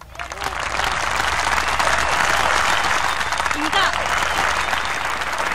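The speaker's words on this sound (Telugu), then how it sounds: "డ్యాన్స్ చూసి మీ చప్పట్లతో రవీంద్ర భారతి మొత్తం దద్దరిల్లారండి" An audience at a pre-primary school annual day in Ravindra Bharathi hall fills the room with continuous applause and cheering, while a voice speaks briefly over it.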